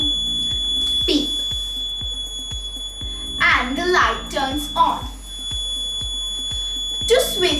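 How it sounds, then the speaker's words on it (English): Buzzer of a homemade water tank level alarm beeping in a steady, rapid repeating pattern, loud and close, while a young voice speaks over it in short bursts. "As it is filled its preset level, the buzzer starts to beep"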